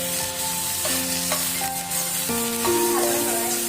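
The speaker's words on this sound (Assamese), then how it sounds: "পিঁয়াজ, বিলাহী, আদা, কেঁচা জলকীয়াটো আৰু নহৰু কেইটা দি ভালদৰে লৰাই দিম।" Onion, tomato, ginger, green chilli and garlic sizzle in a pan for matar paneer, with scraping stir strokes over the steady frying hiss, close and fairly loud with no talk.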